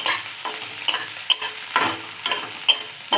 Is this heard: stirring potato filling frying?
yes